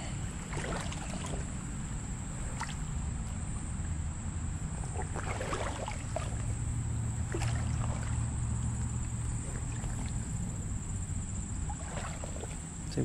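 A small creek flows in a steady, soft trickle and babble, heard nearby for the whole stretch, with occasional splashes and a faint high insect-like whine above it.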